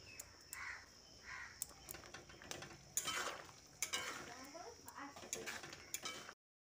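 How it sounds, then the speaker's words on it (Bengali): Potatoes and pointed gourd are mixed in a pan for a Bengali doi potol curry. A utensil gives scattered scrapes and clinks against the pan, and faint birds and a soft voice are heard in the background. "তারপর আলু ও পটলের সঙ্গে ভালো করে মিশিয়ে দিচ্ছি।"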